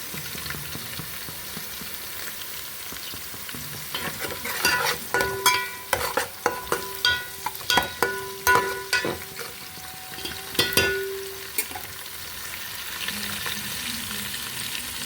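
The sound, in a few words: onions frying and being stirred for mutton biryani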